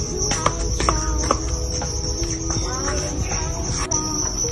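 Crickets kept as feeder insects for a bearded dragon chirp in a steady, shrill, continuous trill close by, with brief clicks and rustles over it and no talk.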